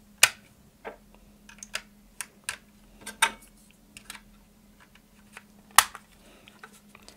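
Batteries are handled and pushed into a Kvarts DRSB-01 radioactivity indicator, making a series of irregular close plastic clicks and small rattles, with one louder snap near the end.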